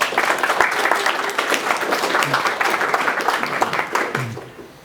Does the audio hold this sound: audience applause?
yes